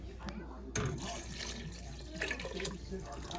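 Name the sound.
pouring water into soup pot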